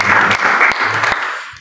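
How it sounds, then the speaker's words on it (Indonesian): A church congregation applauds in a loud, dense burst of clapping that fades out toward the end of the short stretch. "Berikan tepuk tangan yang meriah bagi Tuhan."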